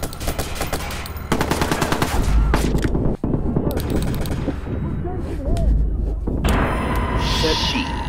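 Automatic gunfire rattles in the Watch Dogs video game during an on-foot chase, with dense rapid bursts of shots running nearly throughout, loud and close, mixed with game speech and effects.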